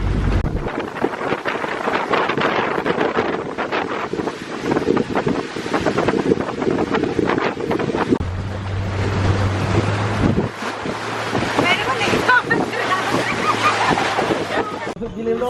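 A tour boat speeds over choppy water through the Langkawi mangroves, its engine droning under constant wind buffeting and the splash and slap of waves for a long, rough, bumpy stretch.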